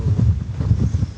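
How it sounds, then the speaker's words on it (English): A strong gust of wind buffets an outdoor landscape photography spot by a big boulder, a loud, continuous low rumble of wind against the microphone. "that's a really big gust"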